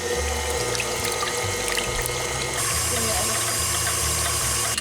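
Electric mixer whirring through sweetened condensed milk and cold water, a loud steady motor drone with a shift in pitch partway through.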